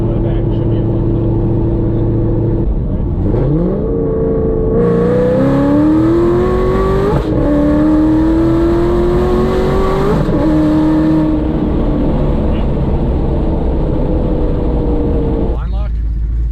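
A cammed 700 HP Shelby GT500 with Corsa long-tube headers and a TVS supercharger revs and pulls through the gears, its pitch sweeping upward in loud rising runs with a brief shift break, under occasional talk.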